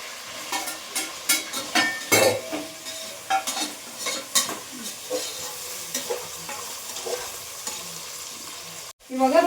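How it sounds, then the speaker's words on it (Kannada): Vegetables and soya chunks frying in oil for a soya vegetable pulao, with a steady sizzle and repeated scraping stirs of a spatula against the pan, close and fairly loud, ending in a sharper clatter. "ನಾನು ವೆಜಿಟೇಬಲ್ ಎಲ್ಲ ಚೆನ್ನಾಗಿ ಎಣ್ಣೆಗೆ ಫ್ರೈ ಆಗಿದೆ ಇವಾಗ ಸೋಯಾ ಹಾಕೋತಾ ಇದ್ದೀನಿ"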